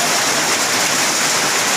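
Rain at a rural market stall in Odisha gives a loud, close, steady wash of water noise with no break and no voices.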